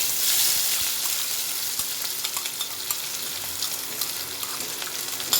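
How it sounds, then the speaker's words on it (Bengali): Two large onions sizzle in hot oil with whole cumin seeds for an egg tarka, a steady close crackling fry with occasional stirring scrapes throughout. "এবার পেঁয়াজটা ভেজে নেব।"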